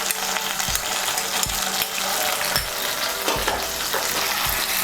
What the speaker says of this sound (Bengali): আমি মশলার বাটিটা ধুয়ে এর মধ্যে দিয়ে দিচ্ছি সামান্য একটু জল।